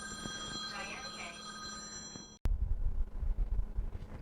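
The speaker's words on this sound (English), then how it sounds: "guess y'all heard my phone ring." A phone rings with a bright, repeating electronic ring over steady tonal hum, then cuts off abruptly and gives way to louder rustling and handling noise near beehive equipment.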